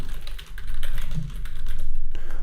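Rapid typing on a computer keyboard, close and clear, with a dense run of quick clicking keystrokes and a brief pause near the middle.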